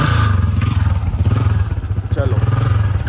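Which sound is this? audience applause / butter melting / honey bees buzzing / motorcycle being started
motorcycle being started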